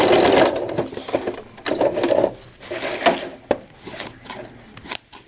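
A sewing machine back stitches velcro onto a cloth diaper in short bursts of rapid mechanical whirring, stopping and starting, close and clear.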